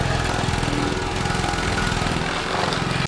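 Heavy outdoor machinery runs steadily in a backyard, clearing trees and grinding out stumps, a loud continuous engine drone with a rough, pulsing low rumble and no voices over it.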